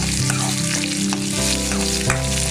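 Chopped tomatoes and coconut sauté in a pan for tomato chutney, a loud, dense sizzle and crackle running throughout with a low hum beneath.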